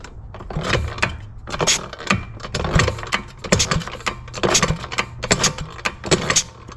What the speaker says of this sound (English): we're going to see if this engine has compression